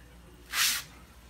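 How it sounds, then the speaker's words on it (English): Water rushing into rebuilt household plumbing as pressure comes up: a single loud hissing surge lasting about a quarter second in the middle, alone over quiet background. "I hear water coming into it."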